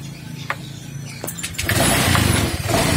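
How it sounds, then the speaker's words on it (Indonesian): A Honda Vario motorcycle with a faulty charging coil is started with its electric starter, giving a couple of short clicks and a brief whir before the engine catches. It settles into a loud, steady idle close by. "kita hidupin starternya apakah bisa bro ya"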